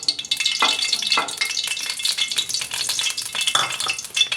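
Cooking oil in a hot kadhai on a lit stove, crackling and sizzling loudly up close, with scattered stirring scrapes and no speech.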